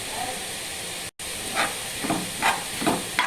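Red amaranth kootu sautés in a pan with a light, steady sizzling hiss, rising in soft repeated bursts as it is stirred, close and moderately loud with no talking.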